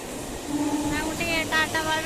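Train at a railway station in Bangalore, a steady rumble and hiss carrying on throughout while people talk over it.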